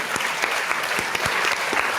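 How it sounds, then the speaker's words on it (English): A podcast studio audience claps steadily in a dense, continuous burst of applause, with a few sharper individual claps standing out near the front. "Don't hold the applause."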